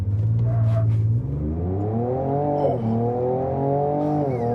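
A 2024 Ford Ranger Raptor truck launches hard, its engine revving up through rising pitch with a gear shift midway, loud and close as it accelerates, no talking.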